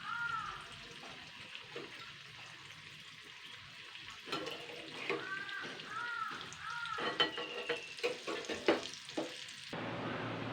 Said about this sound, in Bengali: একটা একটা করে উল্টা পাল্টে দিতে হবে এগুলো কিন্তু বলের মতন ফুলে যাবে পুরো লাল লাল করে ভেজে নিয়েছি